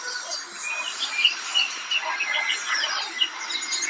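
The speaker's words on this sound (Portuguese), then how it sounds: "o cantar dos passarinhos é muito gostoso, né?" Small birds chirp and sing at dawn on a farm, a steady layer of high tweets and calls with faint insect hum behind, moderately near and continuous throughout.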